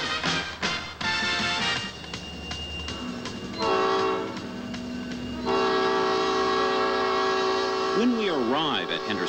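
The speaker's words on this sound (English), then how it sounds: "This mile-long train is on its way to Hendersonville, 20 miles away." Mile-long Southern Railway freight train on the Saluda Grade, with loud sustained horn blasts and whistle tones over rumbling rail noise, while someone narrates throughout.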